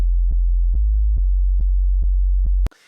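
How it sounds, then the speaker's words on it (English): A pure sine wave from a wavetable synthesizer, the starting tone before any waveform change, holds steady with a low hum and small regular clicks roughly every half second, then cuts off abruptly into a brief hiss. "The wavetable starts off as just a sine wave."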